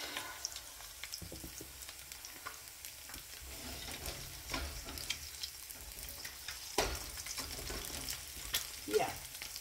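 Eggs frying in a pan on a brunch stove, a soft steady sizzle and crackle with occasional louder pops and clinks, fairly quiet and close.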